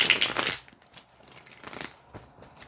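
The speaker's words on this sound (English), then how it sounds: "I'm shuffling the cards, all right?" A deck of tarot cards being shuffled, a brisk close riffle burst at the start followed by softer intermittent card flicks and handling noises.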